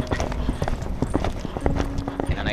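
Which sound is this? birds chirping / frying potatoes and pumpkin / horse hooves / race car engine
horse hooves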